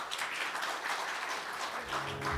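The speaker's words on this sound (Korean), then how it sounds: "세 분의 패널 분께 다시 한번 박수 부탁드립니다" A forum audience applauds for the presenter and panelists, a quiet, even wash of clapping from many hands throughout, with no voices.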